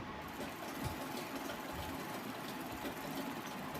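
A sewing machine stitching a blouse runs at a steady, even whir with a faint rapid mechanical patter, quiet and close, without any talking.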